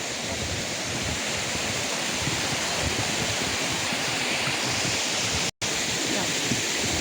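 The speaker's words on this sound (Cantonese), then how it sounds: "又有一個瀑布" Waterfall in the Huanglong scenic area of Sichuan, a continuous broad rushing roar of falling water heard close and loud, unbroken apart from one brief dropout near the end.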